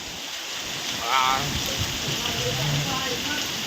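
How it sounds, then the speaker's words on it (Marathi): Heavy downpour during a storm at a brick kiln, a steady, dense hiss of rain throughout with faint voices buried under it. "मुसलधार पाऊस"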